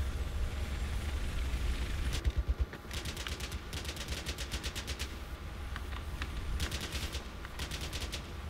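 Gunfire in the video game Battlefield 4 comes as sharp automatic bursts of rapid shots, several separate volleys over a constant rumbling background, loud and near, with no talking during the shooting.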